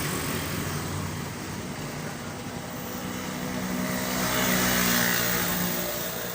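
A Honda Vario 110 motorcycle engine runs steadily up close, a continuous broadband mechanical drone that swells slightly louder toward the end, with no voices over it.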